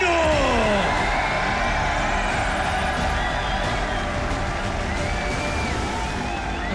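A large arena crowd at a StarCraft II grand final in Montreal cheers and roars continuously, loud and sustained throughout with whoops over a dense wash of noise.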